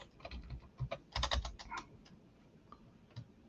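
Keys tapping on a computer keyboard while switching to an IPA layout for translation work, a quick run of soft clicks with a dense burst in the middle, close and fairly quiet, no talking.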